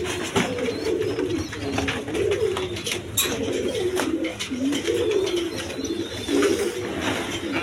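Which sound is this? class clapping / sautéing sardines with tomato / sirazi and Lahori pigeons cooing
sirazi and Lahori pigeons cooing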